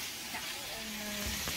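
Chopped garlic hitting a hot pan for a Thai curry, giving a steady close frying sizzle with faint stirring, alone without any talk.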